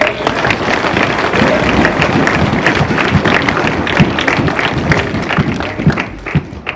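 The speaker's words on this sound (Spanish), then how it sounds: "Vamos a recibirlo con un fuerte aplauso." Congregation applause welcoming Pastor Samuel Guerrero at a church service: dense, loud, steady clapping from a crowd filling the space, thinning slightly near the end.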